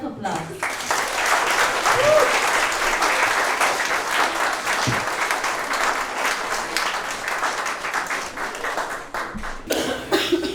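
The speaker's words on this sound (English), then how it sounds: "let us give the BIC's Children's Choir a round of applause" An audience at a church Christmas program applauds a children's choir, a loud, sustained burst of many hands clapping that carries on for several seconds with a cough or two mixed in before it fades out.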